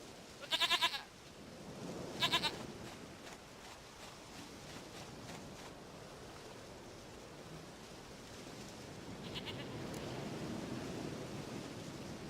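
A goat bleats in The Witcher 3, two short quavering calls close together near the start, then a faint, airy ambient wash carries on with a few soft distant cries.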